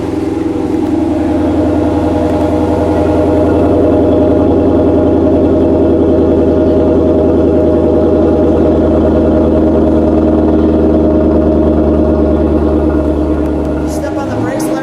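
A 2018 Chrysler 300 Hurst Heritage sits idling, a loud, steady, deep engine rumble held evenly for about fifteen seconds, with a slight shift near the end.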